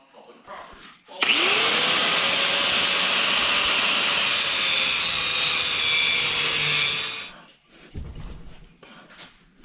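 A metal mounting plate for a Briggs engine on a rat bike build is cut with a power tool, a loud, steady whining cut lasting about six seconds with a slowly falling tone, then stopping into quieter shop noise.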